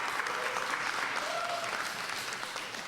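Sustained applause from an audience at a law and government committee meeting, a dense, steady patter of many hands clapping at moderate volume throughout, with no clear speech over it.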